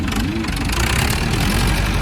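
Tractor engine running steadily while hauling a boat up onto the shore, a loud, continuous low rumble close by with a rising and falling pitch under outdoor noise.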